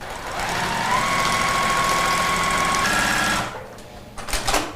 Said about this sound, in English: So Laurel, this is your very first time machine quilting